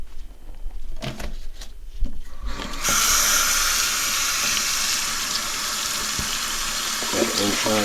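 Warm tap water gushes steadily into a sink for rinsing a tie-dye shirt, a loud continuous splashing that starts abruptly after a few seconds of handling noise.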